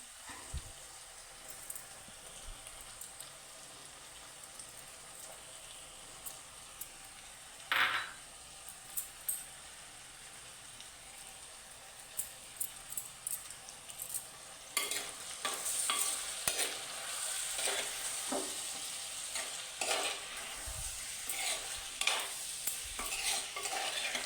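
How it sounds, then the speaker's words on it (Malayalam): Cleaned prawns tossed into a hot pan for a Kerala prawn theeyal sizzle quietly, with intermittent scraping and stirring clatters that grow busier toward the end. "കഴുകി വൃത്തിയാക്കി വെച്ചേക്കുന്ന ചെമ്മീനും കൂടി ചേർത്ത് കൊടുക്കാം"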